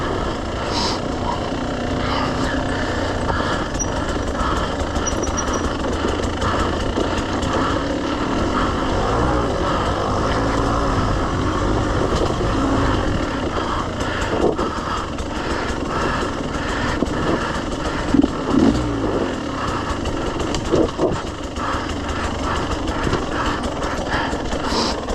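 A KTM 150 XCW dirt bike ridden solo along a trail at Walker Valley, its engine a steady, close, busy drone throughout with small surges and a few sharper knocks near the end; no talking.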